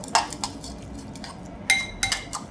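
A utensil stirs chopped tomato and cucumber in a dish, giving a few sharp clinks and scrapes against the dish, spaced irregularly over a quiet, soft background.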